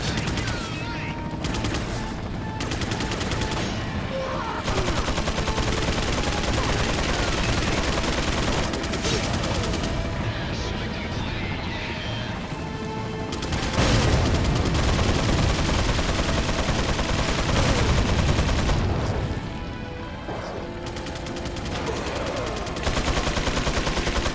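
Repeated gunshots and bursts of automatic fire ring out in Resident Evil 4 on the island, loud and ongoing for a long stretch, with someone talking over the shooting.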